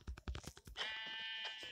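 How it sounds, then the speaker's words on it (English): A sheep bleats in the Minecraft video game, one sustained wavering call that rises out of a few short knocks and scuffs and fades over a second or so. "sheep, come back. Come back, sheep."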